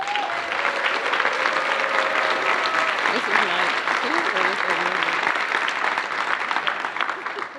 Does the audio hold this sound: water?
no